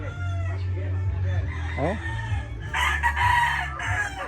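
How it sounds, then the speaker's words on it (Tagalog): Fighting roosters crow loudly nearby, one long crow after another over steady clucking, with a few more birds joining toward the end and a brief voice heard at the start. "wala pa pong talo yan, mga manok na yan."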